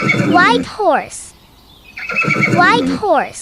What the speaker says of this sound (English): White horse,